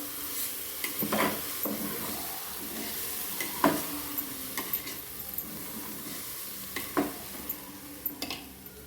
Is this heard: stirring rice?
yes